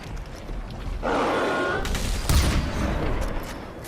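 Gunfire in the Far Cry 4 video game: a burst of rapid shots followed by a heavier blast and scattered reports, loud and close against a busy game soundscape.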